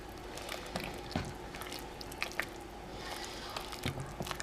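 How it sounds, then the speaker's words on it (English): Sauce thickening in a pot being stirred, giving soft wet squishing and dripping sounds with small clicks of the utensil against the pot, quiet and close throughout. "Stir it up."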